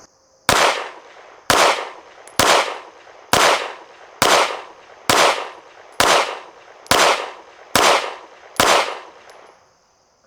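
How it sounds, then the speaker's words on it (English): Ten evenly spaced rifle shots of Arms Core ammunition from a Strike Industries Mass Driver, each a loud sharp crack with a short decaying tail, fired at a steady rhythm with no talking. "Alright, we got 10 rounds of arms core loaded up. We're going to shoot at the bottom right target."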